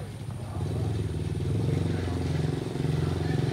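A Honda Dream 125 motorcycle with a new white exhaust idles in a smooth, even putter that rises slightly after the first half-second, with no clear talk.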